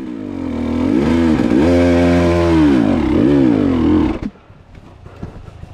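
An enduro dirt bike is forced uphill, its engine revving hard and close in sustained, wavering surges for about four seconds before cutting away to near quiet.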